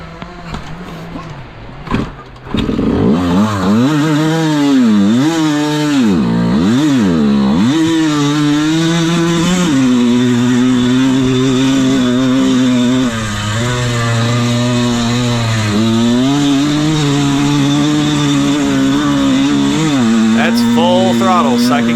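A Bulldog vintage motorcycle engine is revved hard at full throttle in second gear, a loud, buzzy roar that rises and falls in waves before settling into a sustained high drone, with a voice talking early on.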